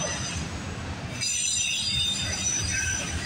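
A long CPKC freight train with auto racks rolls past at a grade crossing on the Galt Subdivision, its wheels squealing in sustained high-pitched tones over a loud, steady rumble.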